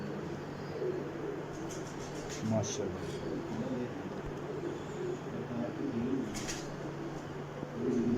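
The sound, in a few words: pigeons cooing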